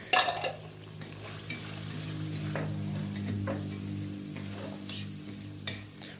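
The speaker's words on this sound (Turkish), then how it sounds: "Bulgurumuzu da kavuralım." Bulgur roasting in a pan with tomato paste for green lentil bulgur pilaf, a soft steady sizzle with a utensil scraping and clinking against the pan every second or so, close and alone.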